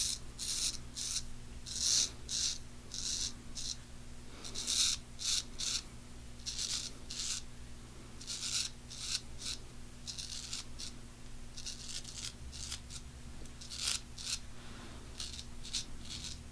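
Razor shaving a sideburn and down the neckline on stretched skin, a close, repeated rasping scrape in short strokes with a soft steady hum underneath.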